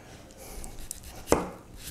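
A kitchen knife chops through a red onion with one sharp thud on the cutting board, followed by faint handling noises.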